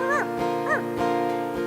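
Concert audience members imitate little dog barks with a handful of high, yelping yips spaced out over a steady sustained tone, fairly loud.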